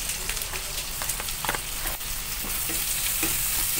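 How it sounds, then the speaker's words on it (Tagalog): Onion and garlic sauté in a pan after pork has browned, a loud steady sizzle broken by repeated scraping stirs and crackles. "igisa ko na yung sibuyas. Sunod ko na yung bawang."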